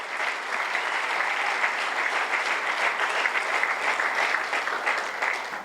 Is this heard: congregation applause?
yes